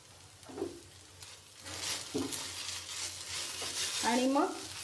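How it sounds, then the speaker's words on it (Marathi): Grated potato is stirred in a pan for a fasting dish, giving soft scraping strokes and a low sizzle that rise and fall across the span, with brief utensil scrapes near the end and no talk. "संपूर्ण बटाटा मी किसून घेतलेला आहे, व्यवस्थित हलवून घेतलेला आहे।"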